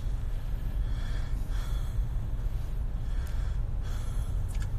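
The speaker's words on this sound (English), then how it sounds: "You are breathing very heavy here." Heavy breathing, close and raspy, with a steady stream of loud, noisy inhales and exhales and snort-like gasps running through the whole stretch without speech.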